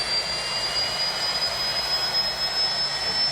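Steady, loud roar of a jet engine, likely a jet fighter burning fuel, sustained without a break and with a thin high whine riding on top.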